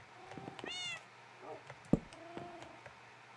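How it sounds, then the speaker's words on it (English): A cat meows in Minecraft, a short rising call near the start followed by a few softer mews and a sharp click, with quiet room tone around it. "I love the cats, but they get in the way sometimes."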